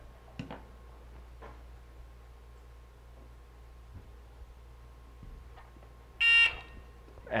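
A short, sharp electronic buzzer on a soldering station sounds once near the end over a quiet hum, after a few faint clicks and taps.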